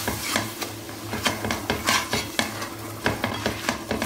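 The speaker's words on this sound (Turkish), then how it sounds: "Unun kokusu çıkana kadar kavuruyorum" Flour roasting in melted butter in a pot, stirred continuously with a spoon: close, steady scraping strokes in a loose rhythm over a soft sizzle, no voices.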